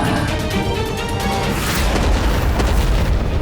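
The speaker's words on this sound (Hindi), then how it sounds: "सर्वत्र होते ये विस्फोट मुझे अपार आनंद दे रहे हैं।" Continuous booming explosions in a dramatized mythological scene of Holika's fire, dense and loud throughout with heavy low rumbles and crackling bursts layered together.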